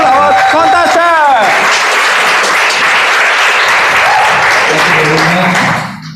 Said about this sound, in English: Let's give a round of applause to our contest chair.